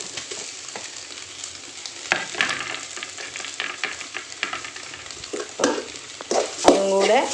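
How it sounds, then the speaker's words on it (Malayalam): Drumstick leaf thoran with crushed coconut and green chilli stirred in a pan, a continuous sizzle under scraping and tossing sounds of a utensil, growing busier toward the end, no talk. "ഇനിയാണ് നമ്മുടെ തേങ്ങയും പച്ചമുളകും കൂടെ ചതച്ചത് അതിനകത്തേക്ക് ഇട്ട് കൊടുക്കുന്നത്"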